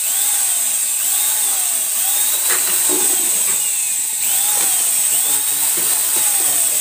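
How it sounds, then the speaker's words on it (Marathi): A whirring drill motor runs steadily, its pitch repeatedly rising and falling as it churns a thick homemade laundry soap mixture, loud and close. "त्याच्यामध्ये ड्रिल मशीनने हलवायचं आहे किंवा हाताने हलवू शकतो।"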